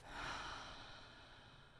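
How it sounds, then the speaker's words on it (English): One soft mouth exhale during a vinyasa flow yoga class, a gentle breathy whoosh that swells briefly and tapers off, faint and close. "Exhale through the mouth."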